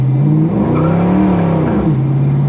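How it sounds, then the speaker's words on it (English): Fox body car with a Vortech supercharger, GT40 heads and an AOD transmission, on a dyno, a loud close engine drone rising and dipping in pitch as it revs and shifts, alone without talk. "As soon as we hit boost and started spinning tires, the damn thing shifts."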